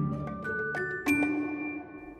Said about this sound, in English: Until the sound of the bell alerted me to the arrival of a customer